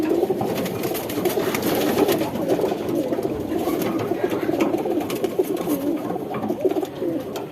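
Many pigeons cooing together in a loft of silver and green young birds, a dense continuous chorus of overlapping low coos with faint rustling, steady and fairly loud throughout.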